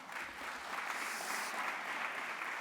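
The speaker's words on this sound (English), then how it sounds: "let's also give him a round of applause" An audience applauds at a small business conference while a government official walks up to the stage, a soft, steady patter of many hands heard from a distance with no talking.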